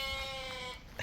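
Sheep bleating on a farm around feeding time, a sustained wavering call filling most of the moment, fairly close, with a second shorter bleat starting near the end.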